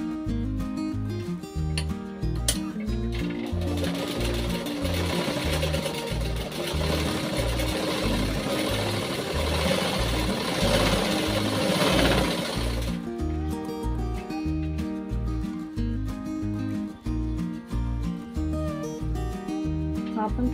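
A sewing machine stitching a blouse yoke, its needle thumping in a fast steady rhythm, loud and close, with a brief burst of denser whirring in the middle before the regular beat resumes.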